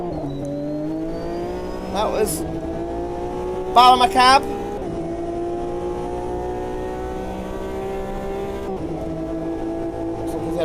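Race car engines in the sim racing game Automobilista 2 drone and rise steadily as the car accelerates, with brief tyre squeals and another car alongside, while someone talks over the racing.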